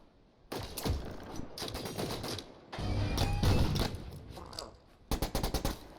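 Rifle fire in the sci-fi shooter The Signal from Tolva: bursts of rapid, sharp shots come in several clusters, loud and close, separated by brief pauses and a final quick volley.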